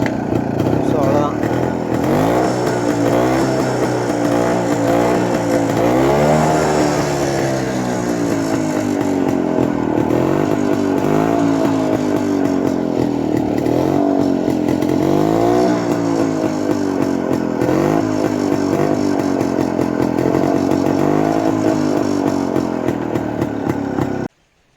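A 1982 Yezdi D250 Classic 250cc motorcycle engine running steadily and loud, with rhythmic revving swells throughout and speech faintly underneath.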